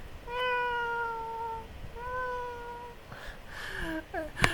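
A person imitates a cat, giving two drawn-out meows followed by a few shorter, rising mews, close and fairly soft over light background noise.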